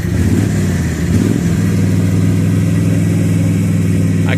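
The engine of a Max 2 amphibious 6x6 UTV drones steadily during a ride on the water, a loud, close, even mid-pitched hum with a slight dip early and no talking.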